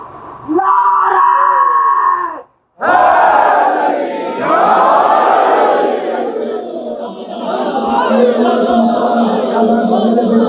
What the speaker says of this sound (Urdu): دونوں ہاتھ بلند کر کے پوری طاقت سے نعرے کا جواب دے گا